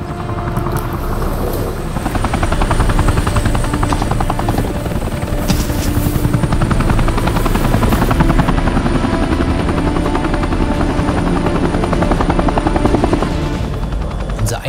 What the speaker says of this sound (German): Die Landung mit dem Heli war nicht wirklich leise